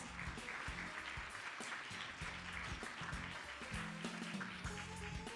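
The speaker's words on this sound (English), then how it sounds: "Let's welcome him with a big round of applause" An audience at a biotech summit session applauds as a speaker is invited to the stage. The clapping is steady and fairly quiet, with low stage music running beneath it.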